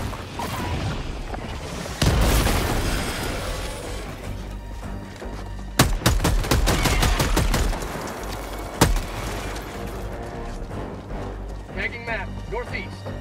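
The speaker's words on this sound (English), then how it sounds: "Bug outpost spotted. Throwing grenade!" Video game combat at a bug outpost in Helldivers 2, with a loud grenade boom followed by rapid bursts of gunfire and sharp impacts, dense and close, layered over game sounds.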